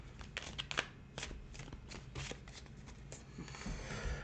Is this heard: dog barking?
no